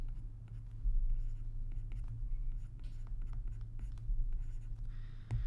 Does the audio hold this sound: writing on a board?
yes